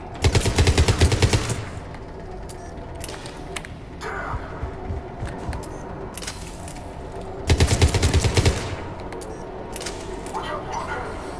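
Gunfire bursts in the Mass Effect video game, with two loud sustained automatic volleys of rapid shots near the start and around the middle, separated by quieter combat ambience and scattered effects.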